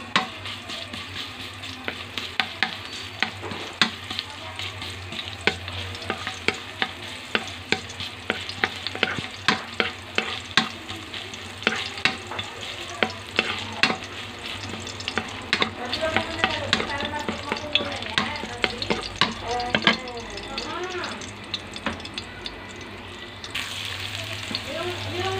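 Garlic sizzles and crackles in a hot pan while being stirred, the cooking done for a shrimp miki noodle soup; steady frying hiss with repeated scraping strokes of the spatula continues throughout.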